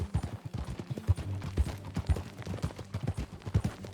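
Horse hooves clip-clopping at a steady riding pace in Red Dead Redemption 2, a close, rhythmic run of hoofbeats with no talk over it.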